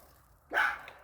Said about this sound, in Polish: więc będzie niestety w tyle słychać jej szczekanie.